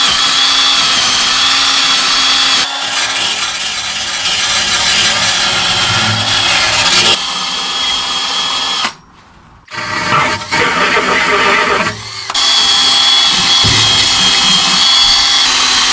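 A small power-tool wheel grinds loudly against a Mercedes SLK 230 Supercharged body, stripping material in long, harsh bursts broken by two brief pauses.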